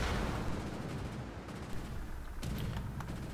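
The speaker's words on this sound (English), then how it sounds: "I believe those shots did come from the enemy battleship." Battleship gunfire in World of Warships rumbles as a low, distant barrage of muffled booms and crackling salvos, fairly quiet, with a couple of sharper reports near the end.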